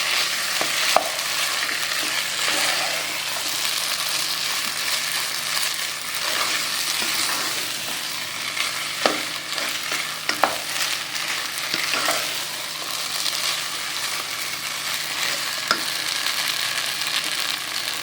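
Ven pongal being stirred in a pan over a medium flame, a continuous thick bubbling sizzle with repeated ladle scrapes and occasional sharp knocks against the pan, close and steady for a long stretch without speech.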